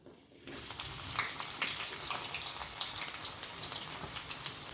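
Two medium onions, cut into long slices, drop into hot oil with cinnamon pieces and a bay leaf for veg pulao, setting off a steady close crackling sizzle that starts suddenly and holds.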